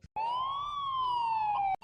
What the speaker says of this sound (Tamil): என்ன ஆம்புலன்ஸ் எல்லாம் ஊருக்குள்ள வருது?